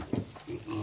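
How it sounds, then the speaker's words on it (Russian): A breeding boar of a good meat breed grunts on a family smallholding farm, giving a short, close, low grunt with a little snuffling. "Хряк Васька один на весь гарем в подсобном хозяйстве семьи Жаровых"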